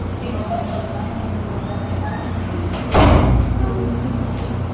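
A door opening during a classroom demonstration to let a visitor in, a single sharp thud or knock of wood partway through amid a background hum, fairly close.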